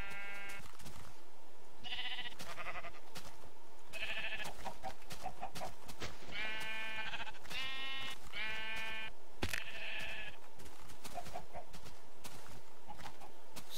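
Sheep bleat repeatedly in a video game, a series of short nasal calls spread across a dense, noisy game soundscape.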